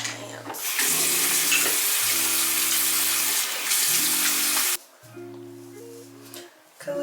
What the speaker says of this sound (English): Need to wash my hands.